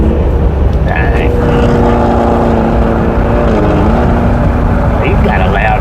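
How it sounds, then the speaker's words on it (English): A passing vehicle with a loud muffler, a deep, steady engine roar that rises and shifts in pitch, heard from inside a livestock hauling truck on the road. "He's got a loud muffler."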